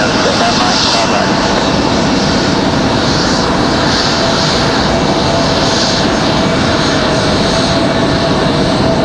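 An Airbus jet airliner on a touch-and-go at Raleigh-Durham International roars loudly and steadily throughout, a broad sustained engine rush with a faint tonal whine riding on top.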